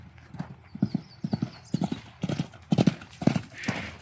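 A mustang's hooves approach in a rhythmic clip-clop of repeated thuds that grows louder and closer, with a brief whinny or snort near the end.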